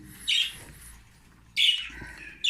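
Pet budgerigars chirping at home in the morning, two or three short bright calls separated by quiet gaps, close and clear with no talking.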